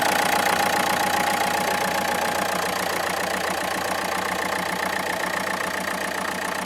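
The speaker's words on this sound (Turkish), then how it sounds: "Bir beş dizel 110 beygirlik aracımızın motor sesi de bu şekilde." A steady, close engine idle with a continuous low rumble and a faint knocking texture, holding even throughout with no voices.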